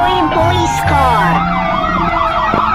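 A police car siren wails in rising and falling sweeps, loud and close, in a scenario where a police car is blown up and crushed.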